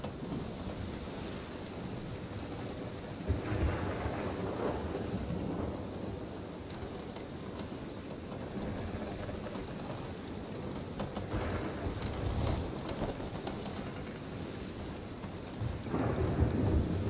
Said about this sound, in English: Try and get out of the storm